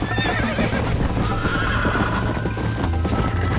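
Horse in Red Dead Redemption whinnying loudly up close while hooves clip-clop at a rapid gallop, with game music and ambience underneath.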